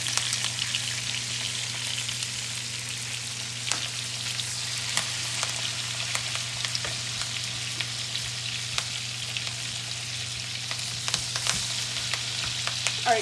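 Steak frying in melted butter with thyme in a pan, a continuous close hiss of bubbling fat with scattered tiny pops and crackles and a low steady hum underneath, no voices.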